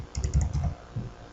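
Quick bursts of keystrokes on a computer keyboard as a command is typed, several close clicks in a rapid cluster, then a couple of softer taps.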